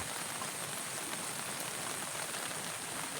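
Heavy rain pours steadily in Morong, Rizal, Philippines, a dense, continuous hiss of drops hitting surfaces with no pauses.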